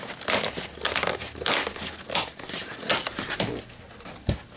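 Cardboard and plastic packaging of a Pretty Little Liars Untold Secrets board game being pulled and torn open by hand, loud and close, with a continuous run of crinkling, rustling and ripping noises and a sharp crunch near the end.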